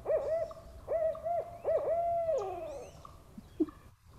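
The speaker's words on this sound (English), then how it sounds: "our barred owl." A barred owl gives a series of rich, rhythmic hoots, several spaced calls rising into a longer descending flourish near the end, clear and close in a quiet woodland setting.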